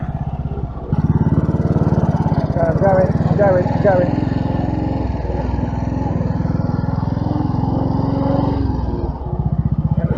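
A Royal Enfield Bullet 500 with a sidecar thumps along close and loud while riding, its single-cylinder beat steady with rev changes, as a rider talks briefly over it and wind buffets the microphone.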